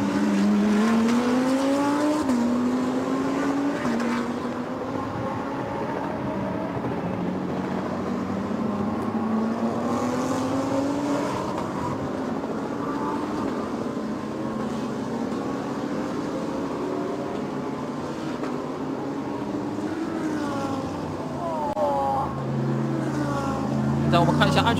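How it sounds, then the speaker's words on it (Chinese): GT race cars, including a GTC-class entry, lapping the Zhuhai circuit during a GTSC series race, engines droning and shifting pitch continuously under excited commentary. "王一博的身后又是迎来了另外一位挑战者，是驾驶 GTC 组别赛车的常常元"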